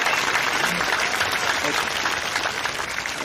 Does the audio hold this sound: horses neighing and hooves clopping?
no